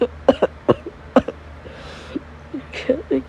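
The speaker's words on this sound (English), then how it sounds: "No, it's not a bad cough." A young woman coughs in short, breathy bursts, several quick dry coughs close to the microphone with brief pauses between them.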